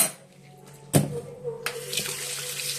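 Water running from a tap during a bath at home, a steady close splashing flow with a sudden louder gush partway through and faint background sounds.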